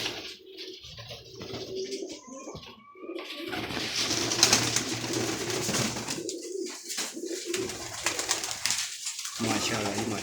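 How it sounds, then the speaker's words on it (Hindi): Pigeons kept in a loft coo in soft, repeated low calls alongside other bird noise, fairly close, with someone talking intermittently over them. "लो जी दोस्तों, ये आपके सामने सारे कबूतर मैं दिखा रहा हूँ, देख लें आप।"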